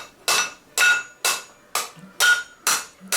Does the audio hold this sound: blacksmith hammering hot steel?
yes